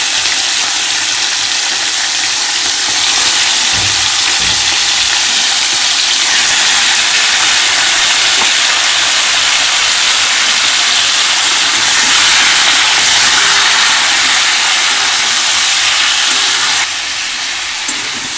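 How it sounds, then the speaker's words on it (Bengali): Chicken pieces dropped one at a time into hot oil, frying with a steady, loud broadband hiss that holds throughout and swells slightly in places, with no voices over it. "তো তেল দিয়ে দিয়েছি, তেলটা গরমও হয়ে গেছে। এবার আমি এক এক করে চিকেনগুলো তেলের মধ্যে দিয়ে দেব।"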